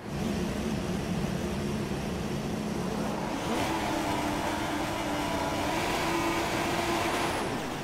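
Formula 1 race cars in F1 2016 revving on the grid and then accelerating away at the race start, a loud continuous engine roar that rises in pitch partway through, with no talk.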